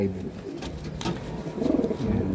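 A blue bar racing pigeon coos softly nearby in low, rolling tones, a couple of short calls against faint background noise.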